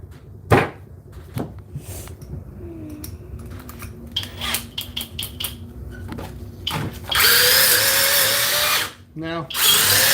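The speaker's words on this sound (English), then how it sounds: "Let's see if another drill can do it." A cordless Makita XGT drill bites into a knot in a wooden board, with short bursts, clicks and handling knocks before the motor winds up into a loud, sustained whine that stalls briefly and restarts near the end.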